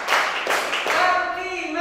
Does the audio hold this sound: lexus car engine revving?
no